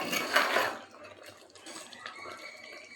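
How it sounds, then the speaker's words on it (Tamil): Water poured into a pot of goat trotter biriyani, a short splashing gush at the start that quickly fades to a faint trickle and quiet kitchen noise. "தண்ணியை சேர்த்துக்கலாம்"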